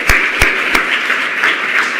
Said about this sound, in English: So one more round of applause for that.